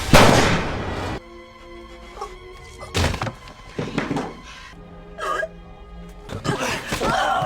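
A gun goes off by accident during a film fight scene, a loud sharp blast standing out among several heavy thuds and impacts over tense background music.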